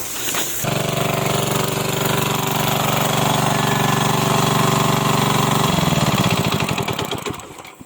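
A small irrigation pump engine runs loudly and steadily with a rough, chugging pulse, then slows and sputters to a stop near the end.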